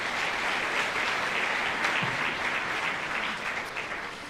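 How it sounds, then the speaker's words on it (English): An audience at a school band spring concert applauds high school Tri-M students, a steady wash of clapping of moderate loudness with no speech over it. "a round of applause for our high school Tri-M students"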